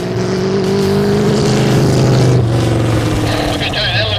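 A Ford 5.0 road race car with tractor-style headers roars past on track, its engine note loud and sustained, then dropping in pitch as it goes by.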